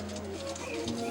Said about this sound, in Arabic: مثل ما تشوفون هاي طيورنا